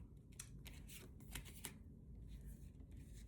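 Tarot cards being shuffled up close, a steady run of crisp papery riffles and slaps with a few sharper snaps, no talking.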